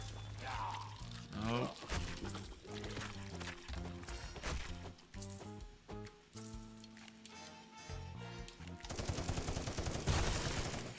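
Rapid video game gunfire in bursts and sustained automatic fire, mixed with loud game music and effects, ending in a noisy wash of sound; no one speaks over it.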